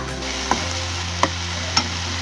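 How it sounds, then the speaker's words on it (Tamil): Tomatoes frying in a pan over golden-browned mushrooms, a steady close sizzle under three distinct spatula taps on the pan, with no voices. "இப்போ தக்காளி சேர்த்துக்கலாம்."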